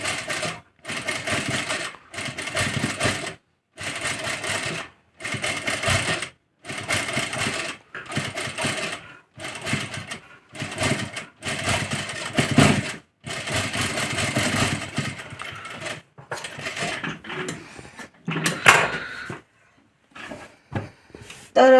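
A sewing machine stitches lace onto a round-neck blouse in repeated runs of steady, fast mechanical whirring, each burst lasting a second or two and separated by short pauses, with softer, choppier stitching near the end.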